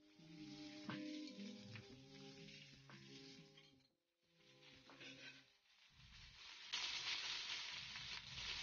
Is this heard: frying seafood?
yes